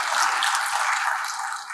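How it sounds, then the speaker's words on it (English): Applause from an audience at an entrepreneurship summit in Hyderabad, honoring two gentlemen: dense, steady clapping filling the room for the whole stretch, bright and continuous without pauses. "A big round of applause, ladies and gentlemen, for these two gentlemen"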